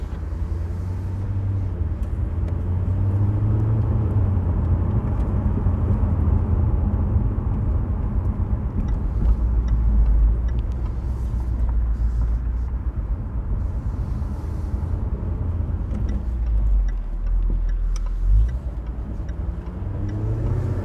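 Jaguar F-Type R75 convertible with its P575 engine, driven at night, gives a loud, steady low growl and rumble that holds for the whole stretch, swelling and easing slightly as speed changes, with no talk over it.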